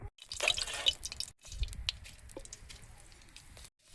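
Dry red chillies dropped into hot oil for tempering a chalta pickle give a burst of crackling, sputtering sizzle up close, strongest at the start, then a lower simmering hiss with scattered pops.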